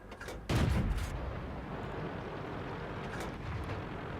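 A tank gun firing in World of Tanks, one loud booming shot with a rumbling tail followed by a fainter, more distant shot, over a constant low engine drone, no talking.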